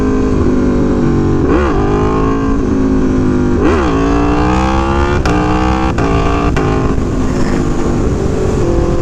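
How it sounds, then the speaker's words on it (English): Aprilia Tuono V4 Factory motorcycle with its throttle held open through a wheelie, engine roaring loud and steady with several rising and falling revs, recorded close with no voices. "I had to continue opening the throttle after I get the front wheel off the ground."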